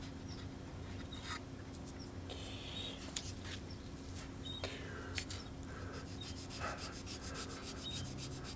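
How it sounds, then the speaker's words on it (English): Hand sanding one side of a wooden part in a workshop, a steady scratchy rubbing in short strokes with brief pauses, close and moderately loud over a constant low electrical hum. "I'm going to get one side here sanded."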